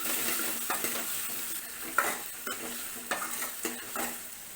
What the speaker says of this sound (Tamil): ஒரு பச்சை மிளகாய் கீறி வச்சுருக்கேன் அப்புறம் கருவேப்பிலை ஒரு பெரிய வெங்காயம் இதை நல்லா வதக்கிக்கலாம்